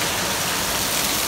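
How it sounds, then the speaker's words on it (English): Heavy rain pours down in a steady, dense hiss on an evening that turns stormy, loud and unbroken, with no voices. "That's a lot of rain coming down."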